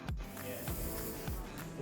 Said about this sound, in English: Now that we've sprayed our spray glue onto here